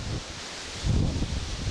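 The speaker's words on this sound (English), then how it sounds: "The wind is very intense today." Strong gusting wind blows hard, making a broad rushing noise with low rumbling buffets against the microphone that swell near the end of the brief moment.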